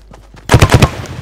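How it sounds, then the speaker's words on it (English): Video game gunfire in Fortnite: faint distant pops at first, then a loud burst of four or five rapid close shots, followed by a fading echo. "I swear down, I just heard gunshots."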